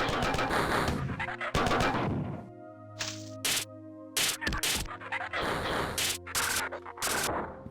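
Gunfire in the classic shooter Marathon, a series of sharp, loud shots in irregular bursts with brief gaps, over a humming tonal background.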